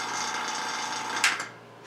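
A vacuum pump hooked to the AC system of a fourth-generation Mustang GT, running with a steady buzzing drone before a brief clatter as it is shut off and winds down.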